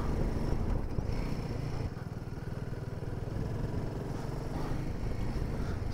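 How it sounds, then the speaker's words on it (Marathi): Motorcycles cross a bridge on a Ladakh mountain road between Sissu and Pang. Their engines drone steadily at moderate distance, with no talking. "आपली पोरं बाईक ब्रिजवरनं चालली"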